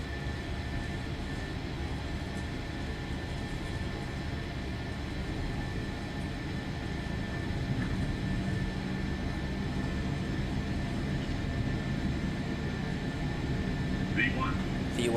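Airliner engines roar in a steady broadband rumble during a takeoff roll in Microsoft Flight Simulator 2024, building slightly toward the end, with a voice talking over it.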